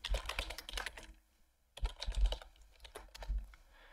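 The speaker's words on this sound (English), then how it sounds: "I can open up a file and then just start typing away." Fingers type on a computer keyboard in the Vim editor, rapid close clacking keystrokes in two bursts separated by a short pause, with no voices.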